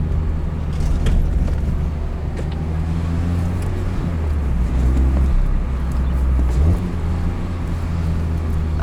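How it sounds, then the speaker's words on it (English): Engine and intake drone from a 2021 Mazda MX-5 Miata Club with a manual gearbox, top down, revs dipping and swelling through manual rev-matched downshifts, loud and continuous from inside the car, no talk. "The intake noise on rev match downshifts."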